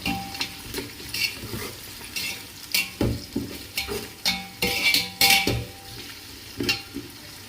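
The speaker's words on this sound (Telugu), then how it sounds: "బాగా ఫ్రై చేసుకుందాం." Onion frying in a pan for mutton biryani, a steady sizzle broken by repeated scraping stirs of a utensil against the pan, close and loud, with no talking.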